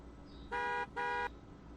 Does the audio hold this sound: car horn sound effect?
yes